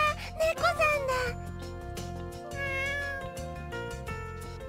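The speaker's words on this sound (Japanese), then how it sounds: "わあ、猫さんだ。" A cat meows several times, rising and falling, over steady background music in an anime scene; a voice briefly exclaims near the start.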